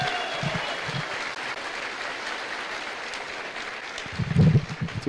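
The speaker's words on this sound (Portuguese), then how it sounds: "Eu convido aqui o Paulinho Serra, uma salva de palmas para o Paulinho." Steady applause from an audience at a public security panel at a political congress in Brazil, clapping continuously, with a louder swell of claps near the end.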